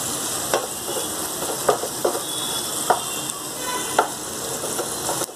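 A chopped small onion fries in hot oil tempered with asafoetida for a clam masala curry, a close, steady sizzle broken by a series of sharp stirring scrapes and clinks against the pan.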